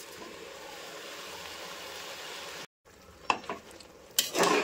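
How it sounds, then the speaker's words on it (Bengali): Soaked dalia and masoor dal fry in a pan with tomato and green chilli: a continuous hiss of frying, then a brief break followed by sharper scrapes and clatter of stirring. "ডালিয়াটা দিয়ে আর ডালটা দিয়ে ভালো করে একটু কষিয়ে নিচ্ছি।"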